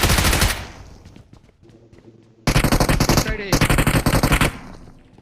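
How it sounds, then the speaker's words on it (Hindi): Rapid machine gun bursts in a shooting video game: loud sustained volleys at the start, a lull with a faint reload, then two heavy bursts of dense automatic fire broken by a short gap. "रिलोडिंग आ गई ना, अब मार गोलियां।"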